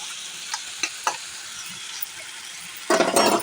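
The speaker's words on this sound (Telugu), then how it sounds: "ఇప్పుడు ఈ గ్రేవీ వేసేస్తున్నాను" Ground gravy paste for a dal gravy curry goes into a hot pan, with faint scraping stirs early on, then a loud burst of sizzling frying near the end, with no voices.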